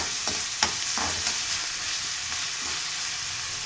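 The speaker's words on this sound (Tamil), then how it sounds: "லேசாக வதக்கினா போதும், ரொம்ப வதக்க வேண்டாம்." Vegetables for a veg bread sandwich stuffing are lightly sautéed in a pan, giving a steady, close sizzle with a few sharp stirring scrapes early on. No one speaks.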